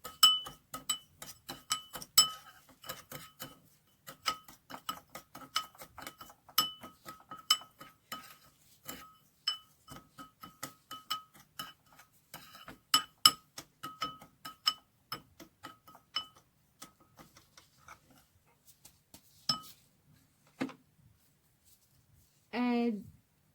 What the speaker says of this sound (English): Then add a teaspoon of coconut oil. And mix the 2 ingredients together.